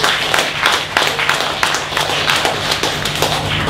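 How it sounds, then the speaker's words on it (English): A poetry club audience claps steadily in a dense, continuous wash of hand claps, loud and close, with a low steady hum beneath. "Give another hand for Julie Watt. Keep clapping."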